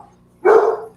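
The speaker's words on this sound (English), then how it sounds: "now they heard my dog heard your dog barking." A single loud, close dog bark bursts out after a quiet moment, a dog outdoors near the kennels answering another dog's barking.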